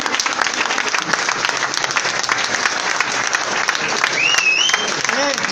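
Audience at a seminar gathering in Mau clapping steadily, thick continuous applause close by, with a few faint whistles and voices rising through the clapping near the end.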